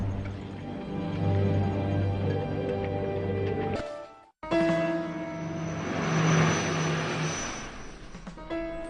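A propeller transport plane flies overhead carrying supplies and wounded during the Korean War, its engines droning steadily and loudly with a brief cut in the middle before the hum resumes.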